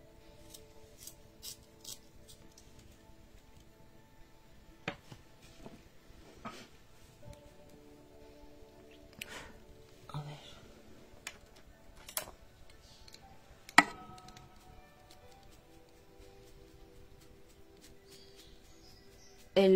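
A drawing pencil being sharpened, giving soft, scattered scraping clicks and ticks at close range, quiet overall, with a sharper snap near the end.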